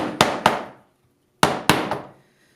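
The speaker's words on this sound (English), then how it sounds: "Tap these joints down" Two pairs of sharp wooden taps as glued segments of a turned wood bowl are knocked together at the joints on a newspaper-covered bench, each pair a quick double knock with a short ringing decay, close and crisp.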